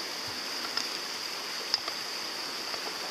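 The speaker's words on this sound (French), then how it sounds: "cet après-midi, on est au bord de la rivière" A riverbank stream flows steadily, a constant even wash of water without pauses, close by and moderately loud with no voices.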